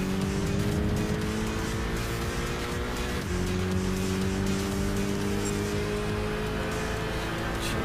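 A race car in Gran Turismo 6 City Trials, with a loud, continuous engine roar at high revs that shifts pitch around a gear change, alone and close throughout.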